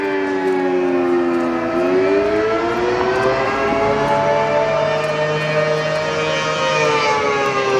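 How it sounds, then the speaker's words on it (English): A loud civil defense tsunami warning siren in Crescent City, California wails continuously with a sustained, slowly bending multi-tone howl that dominates the scene, close and overpowering, with no voices. "right now we're stuck in Crescent City, California because a tsunami is coming and the world's scariest siren is letting us know."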